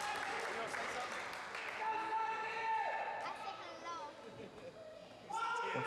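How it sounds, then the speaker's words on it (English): A wrestling crowd at a TXW event cheers and claps, a lively mix of shouts, chatter and applause with a commentator talking over it, the noise dipping briefly before swelling again. "Crowd's starting to get pumped up here for Trojan."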